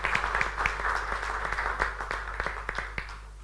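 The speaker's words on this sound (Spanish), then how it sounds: "Y un aplauso para el diputado González." Audience applause for a deputy at a breakfast panel on regionalisation: dense, continuous clapping from a room of people, fairly close and steady throughout with scattered sharper claps.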